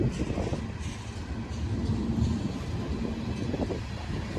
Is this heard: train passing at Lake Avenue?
yes